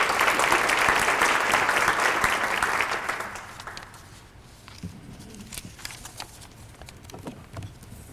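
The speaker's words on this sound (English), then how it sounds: "Please give them a round of applause." An audience at a human rights awards ceremony gives a dense round of applause that fades after about three seconds into scattered claps and quiet room noise.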